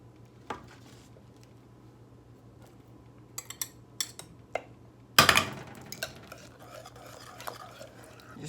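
German chocolate cake icing with chopped nuts and vanilla being stirred in a pot, quiet at first, then sparse spoon taps and a sudden loud clatter of utensil on metal followed by scraping stirs.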